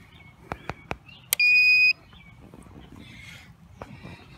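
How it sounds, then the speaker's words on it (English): A power converter for a battery-run MK 350 oxalic acid vaporizer gives a few short clicks, then one loud, sustained electronic beep when switched on. The beep is close, with faint background noise after it and no speech. "Hook up the converter as you would"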